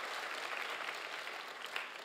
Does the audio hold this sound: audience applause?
yes